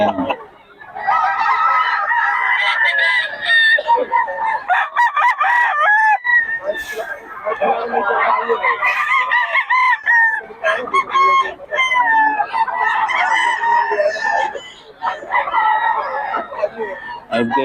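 Chickens and roosters at a market in Bocaue, with repeated nearby crowing and clucking calls overlapping one another, loud and busy against a quiet background with some voices mixed in.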